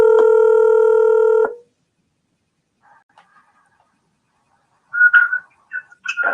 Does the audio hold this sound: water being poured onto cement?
no